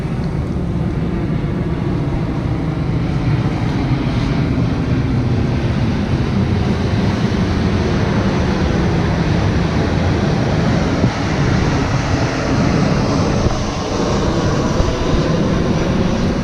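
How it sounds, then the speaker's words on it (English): A busy airport at Kota Kinabalu has a steady, loud, unbroken roar of aircraft engines that lasts throughout. "Crikey, the airport's busy."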